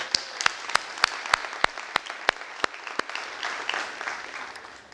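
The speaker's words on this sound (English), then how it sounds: "Let's give them another round of applause." Scattered applause at a city council State of the City event, with sharp individual claps standing out over a softer wash of clapping that fades toward the end.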